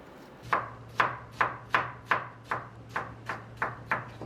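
A knife on a cutting board slices Asian pear into very thin julienne strips, giving nine crisp, evenly spaced chops at a steady rhythm, close and clear with no talking.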